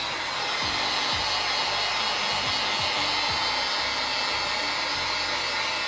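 A heat gun blows over a decorative resin bowl with gold pigment, giving a continuous, loud, even whooshing roar throughout with no breaks.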